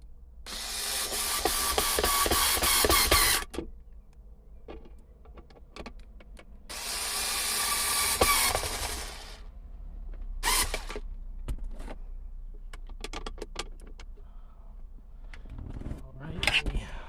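An electric screwdriver drives screws to install a 3D printed cupholder in a Mitsubishi Montero, two loud whirring bursts of a few seconds each with ratcheting clicks and quieter handling sounds between them.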